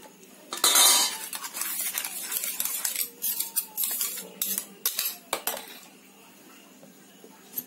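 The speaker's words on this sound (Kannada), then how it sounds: "ಈ ಮಜ್ಜಿಗೆನ ಹಾಕೊಂಡು ಚೆನ್ನಾಗಿ ಅಲಗಾಡಿಸಿ ಅದಕ್ಕೆ ಹಾಕೊಳ್ಬೇಕು." Buttermilk is shaken and swirled in a mixer jar that still holds ground spice paste, giving a stretch of close, uneven clinks, rattles and sloshing knocks that peak early and then continue in irregular bursts, with no talking.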